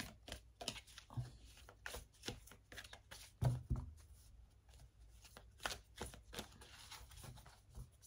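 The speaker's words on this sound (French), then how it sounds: "je mélange les cartes." Tarot-style cards are shuffled by hand for a card reading, a close, quiet run of irregular riffling flicks and soft slaps with brief pauses, one louder thump midway, and no speech.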